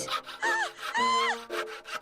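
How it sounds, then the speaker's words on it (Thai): A small saw cuts a window opening into a toy Barbie house, with several rasping back-and-forth strokes in quick succession, close and fairly quiet. "งั้นก็เลื่อยตรงนี้เลยนะ"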